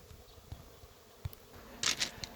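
Honey bees buzz around their hives, faint close buzzes and brief louder fly-bys over quiet background with a few small knocks.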